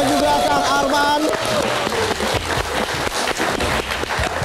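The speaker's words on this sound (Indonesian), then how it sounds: "Kita berikan tepuk tangan untuk Mas Ariel dan juga Kang Arman." A large live-show audience applauds for musicians Ariel and Arman, loud sustained clapping that fills the room, with a voice speaking over the start before the applause carries on alone.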